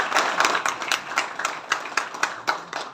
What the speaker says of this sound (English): I would like to just take a moment to applaud them for that effort